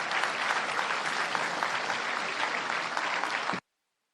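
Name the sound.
congregation applause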